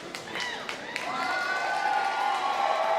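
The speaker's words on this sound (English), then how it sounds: "you can hear the crowd loving every bit of it" Crowd at an independent wrestling show cheering and applauding, a few sharp claps and whoops at the start swelling into sustained moderate cheering with a commentator talking over it.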